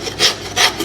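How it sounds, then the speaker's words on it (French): A saw cuts through a lamb breast on a butcher's board in two quick, close, rasping back-and-forth strokes, loud and dry with nothing else heard. "Sinon un petit trait de scie."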